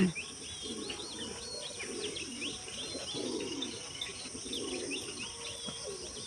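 Home-kept pigeons coo in soft, repeated low rolls on a clear morning, while smaller birds chirp higher up and insects buzz faintly behind.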